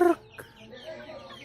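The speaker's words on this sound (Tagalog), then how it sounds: "Ito pala yung mga manok ko." Backyard chickens in a coop, a sharp loud cluck at the start followed by softer scattered clucks and chirps further off.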